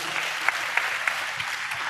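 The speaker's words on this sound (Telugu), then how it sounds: "చప్పట్లు కొడుతూ స్తోత్రాలు చెప్తా" A church congregation claps steadily while praising during a Telugu sermon, the applause soft and somewhat distant, forming an even wash with a few sharper individual claps standing out.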